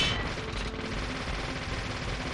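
Rapid gunfire from a gun in the video game Deadly Premonition, a dense, loud, unbroken burst of shots that runs the whole time with no pauses.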